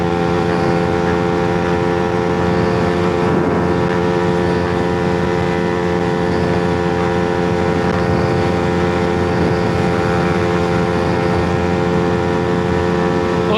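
Engine drone of a 2024 Suzuki GSX-R125 motorcycle accelerating at speed, with steady dense harmonic tones under loud broadband wind roar that persists throughout.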